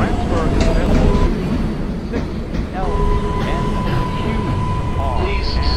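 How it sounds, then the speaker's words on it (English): An R142A subway train running as a Bronx-bound 4 express rumbles steadily with rail noise and a sustained tonal whine, while a voice speaks over the ride. "This is a Bronx-bound 4 express train."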